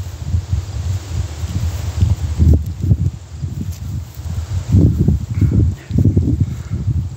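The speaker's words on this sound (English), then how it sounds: "The wind's starting to pick up as well." Wind gusts outdoors in rising, uneven surges, a low rumbling buffet close to the microphone with a faint rustle behind it, swelling and easing over several seconds.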